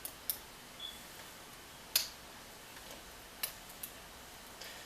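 A lock being picked using a bottom-of-the-keyway tensioner gives a few faint, sparse metallic ticks and clicks, close up, with no talking.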